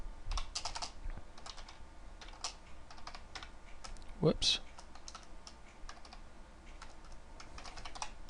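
Fast, uneven typing on a computer keyboard while coding C# in a quiet room, light clicky keystrokes in bursts with a brief spoken exclamation partway through.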